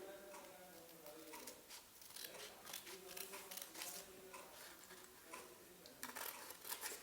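Scissors snip through paper in a run of short, crisp cuts with irregular rhythm, close up and moderately loud over faint room background.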